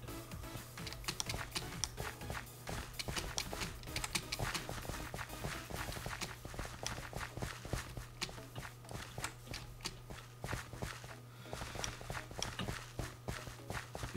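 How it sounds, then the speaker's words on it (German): Footsteps in Minecraft patter in a steady run of quick, dense steps through the whole stretch, fairly faint against a constant low hum, with no talking. "Ich höre hinter mir Schritte."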